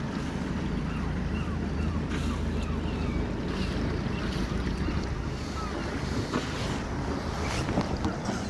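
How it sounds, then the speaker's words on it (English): A fishing boat's engine rumbles low as it comes into Whitehills Harbour on the Moray Firth in North East Scotland, steady under wind buffeting the microphone and lapping water along the shore. "we've got a boat coming in"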